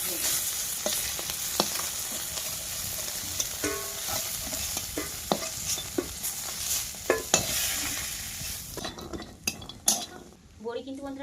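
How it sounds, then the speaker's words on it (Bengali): Badi, lentil dumplings, sizzle and spit steadily in hot oil, with scattered clinks of a metal spatula against the pan throughout, the frying thinning out and turning quieter near the end. "বড়ি কিন্তু বন্ধুরা লাল লাল করে ভাজা হয়ে গেছে"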